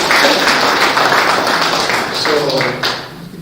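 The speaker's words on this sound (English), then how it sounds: "let's give a round of applause to all the speakers" An audience at a theology college's golden jubilee national seminar in Delhi applauds a panel of speakers, a dense, steady wash of clapping that fades toward the end, with faint voices mixed underneath.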